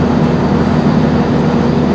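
A train runs along the rails on a route toward Goole, giving a loud, steady rumble with a constant low hum and no pauses, as heard from on board.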